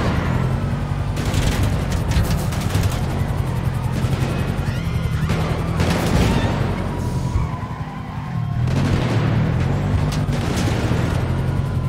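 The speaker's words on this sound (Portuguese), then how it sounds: "eu tô tomando tiro demais" Gunfire and crashing action noise ring out during a bank robbery in GTA V, with a gang driving a 2023 Honda Civic. Loud, dense bursts hit repeatedly over a constant rumble of vehicle engine and skidding.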